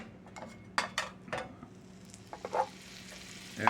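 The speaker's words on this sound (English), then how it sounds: "I'm not going to deep fry these. I'm just going to pan fry them." Potato pancakes pan-frying in a skillet of oil with a little butter give a steady soft sizzle, broken by several clinks and scrapes of a utensil against the pan.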